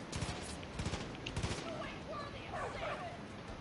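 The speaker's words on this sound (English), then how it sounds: "Somebody just shot me." Gunfire in Far Cry 5, a quick cluster of several sharp shots near the start, then quieter game sounds and scattered noise, with a player speaking at times.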